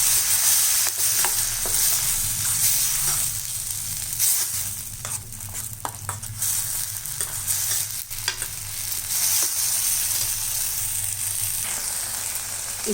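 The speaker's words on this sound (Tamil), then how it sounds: "இப்போ இதையும் நல்லா கலக்கி இந்த பச்சை வாசனை போகிற வரைக்கும் நல்லா வதக்கலாம்" Tomato puree with tomato and onion is sautéed in a pan for an egg fry masala, producing a loud, continuous sizzle broken by repeated scraping strokes of stirring and no voices.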